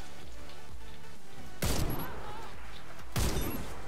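Warface first-person shooter gunfire, two heavy bursts of shots standing out sharply over a busy game background, one around the middle and another near the end.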